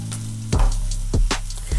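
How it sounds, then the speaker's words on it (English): Onion shallots sauté in a hot pan with a steady, soft sizzle, broken by a few sharp clinks or stirs of a utensil against the pan. "onion shallots to it. And I'm just going to saute it for a minute or two"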